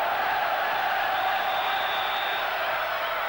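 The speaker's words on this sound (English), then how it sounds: "The crowd now really getting behind this team in yellow" Dense, steady roar of a football crowd at an Oxford United match during the 1985–86 season, a continuous loud wash of massed voices cheering throughout without a break.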